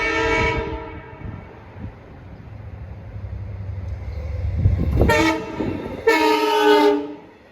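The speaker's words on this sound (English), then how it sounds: "approaching Windsor Avenue at 7:21 p.m. is another one of those two-digit Montauk trains" A Long Island Rail Road Montauk train on the Montauk Branch approaches a crossing in the evening, rumbling steadily before sounding two loud horn blasts, the second longer, close and clear.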